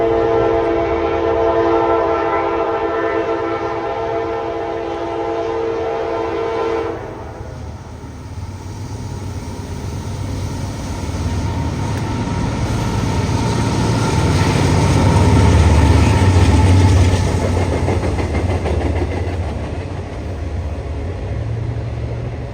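Norfolk Southern 25P intermodal freight train carrying Chicago-bound UPS loads, loud and near, opening with a sustained horn blast that gives way to the heavy rolling rumble and clatter of passing cars.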